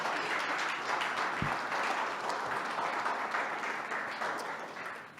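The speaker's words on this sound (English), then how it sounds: "give him a round of applause" Meetup audience in a room breaking into steady applause, dense clapping at moderate distance that holds evenly for several seconds before tapering off at the end.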